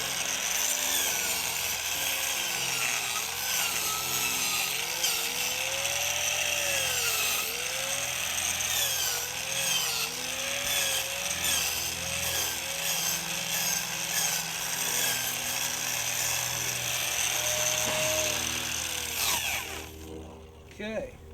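A chainsaw-style grinder disc cuts and trims into a straw bale wall, giving a steady buzzing, rasping whine with a wavering pitch that runs for about twenty seconds before cutting off near the end.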